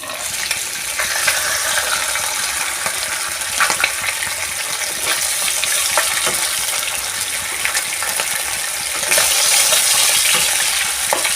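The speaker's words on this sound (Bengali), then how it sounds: "আর একটু সর্ষের তেল দিয়ে মাছগুলোকে ভালো করে কষে নেব" Magur catfish pieces frying in mustard oil, a dense continuous sizzle that stays loud and even, with occasional scraping and clicking from turning the fish and a brief swell of hiss near the end.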